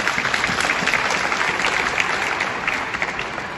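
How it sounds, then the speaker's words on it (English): An audience gives Swakopmund a round of applause: dense, continuous clapping from many hands, fairly loud and even throughout the few seconds, with no voices standing out. "let's give Swakopmund a round of applause"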